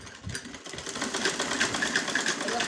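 A sewing machine stitches an Afghani salwar in a steady, rapid run of close mechanical clatter, continuous and fairly loud throughout.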